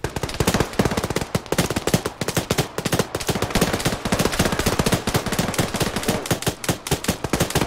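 Rapid automatic gunfire in a military video game operation, dense overlapping bursts crackling loud and close for the whole stretch with barely a pause.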